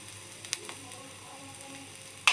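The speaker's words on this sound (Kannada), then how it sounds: "ಇದನ್ನು ಚೆನ್ನಾಗಿ ಹುರಿಬೇಕು" Egg curry ingredients fry quietly in a pan, a faint steady sizzle with a few soft stirring clicks, ending in a sharper clatter of utensil on the pan.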